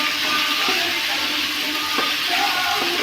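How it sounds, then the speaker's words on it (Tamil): Onions and ivy gourd leaves sauté in a pan, a constant hissing sizzle with a few faint clicks of stirring, close and steady with no one talking. "நல்லா வதங்கட்டும் நல்லா வதங்கட்டும்"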